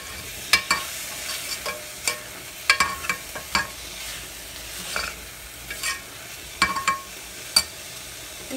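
Onion, tomato, mint and coriander sautéing in a pan, a quiet sizzle under sharp, irregular clicks and scrapes of a spatula stirring, close and without talk.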